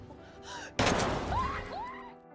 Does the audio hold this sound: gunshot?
yes